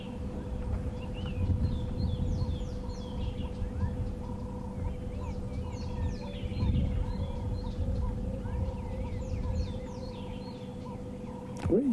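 Small birds give alarm calls all around at a female leopard on an African safari: repeated sharp chirps and chatters from several directions, fairly faint, over a steady low hum of wind or vehicle noise.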